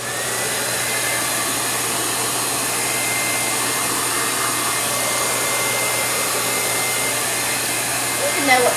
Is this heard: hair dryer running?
yes